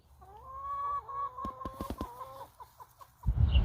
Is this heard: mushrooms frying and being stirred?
no